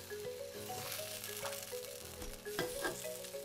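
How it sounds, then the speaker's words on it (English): Fish meat and a mushroom sizzling and frying in a cooking pot in the survival game No One Survived, a steady crackling fry with a few clanks of stirring and no voices. "we are going to take two fish meat and one mushroom, cook that up"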